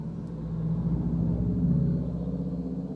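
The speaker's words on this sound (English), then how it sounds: "Have a look at the Subaru coming by." A Subaru drives past on the road, a low engine rumble that swells as it nears and fades away over a few seconds, with no talking.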